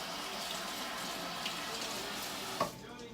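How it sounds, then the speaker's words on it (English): Water running steadily from a kitchen tap during handwashing, a continuous hissing stream with a brief splash or knock near the end. "I'm going to wash my hands."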